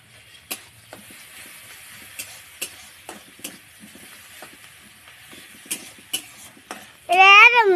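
Onion and chopped garlic fry in a pan with a faint hiss, broken by scattered sharp clicks of a spoon stirring against the metal, before a voice speaks loudly near the end.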